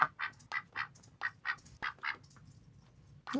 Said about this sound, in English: add some duck sound here